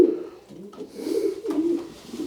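A pigeon coos in low, rolling, repeated phrases, close by and steady, with faint background noise.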